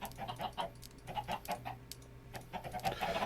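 Chickens in a Minecraft Tektopia village cluck in a string of short, fairly quiet, bright calls over a low steady hum, with no talking.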